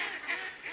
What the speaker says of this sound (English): The ducks are going nuts in here.